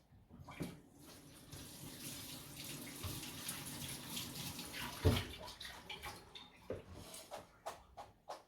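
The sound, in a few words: tap water running over cooked pasta in sink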